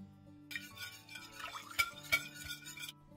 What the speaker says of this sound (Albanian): Shtojmë edhe vajin, të vaj do shtojmë 50 ml ose gjysmë gote çaj